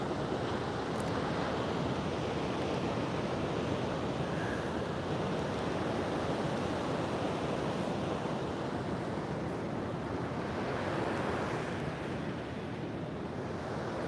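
Ocean surf washes steadily onto an oceanfront shore, a continuous broad rush of breaking waves with some wind noise on the microphone, no voices.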